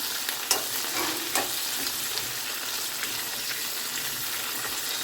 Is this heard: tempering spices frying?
yes